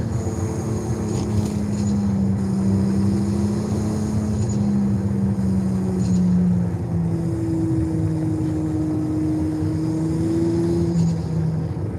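Toyota Supra engine cruising in the game Forza Horizon 5 at night, a steady low drone with slow pitch glides as it speeds up and eases off, moderately loud and constant.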